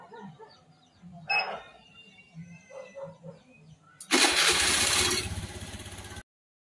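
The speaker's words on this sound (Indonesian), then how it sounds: "Kita coba starter." A motorcycle engine cranks and catches via an Arduino Nano-controlled starter, a sudden loud burst of engine noise running steadily for about two seconds after a stretch of quieter background sounds.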